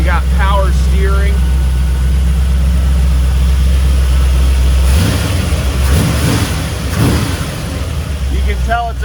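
A restored 1968 Chevrolet C10 small-block V8 runs with a deep, steady low rumble at close range while someone talks over it, the engine tone shifting slightly midway.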